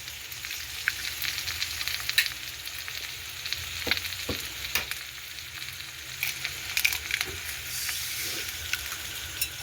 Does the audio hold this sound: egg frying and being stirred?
yes